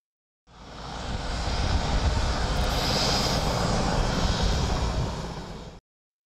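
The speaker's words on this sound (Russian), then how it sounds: "Один за другим самолеты зашли на посадку и встали на стоянку." Airplanes come in to land and taxi to a parking stand, producing a loud, steady aircraft engine roar that swells in and holds for several seconds before cutting off, with no voices.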